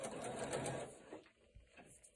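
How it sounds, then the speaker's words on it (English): A sewing machine stitches forward along a seam line in a quilting room, giving a soft whirring hum that runs for about a second and then trails off into quiet, faint clicks. "We're going to go forward, following on our line."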